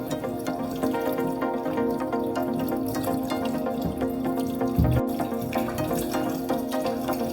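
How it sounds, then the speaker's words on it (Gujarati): Peeled garadu yam is rinsed under running water, a steady splashing, trickling stream with occasional drips, close and continuous throughout. "હવે આ ગરાડુને પાણીથી વોશ કરી લઈશું।"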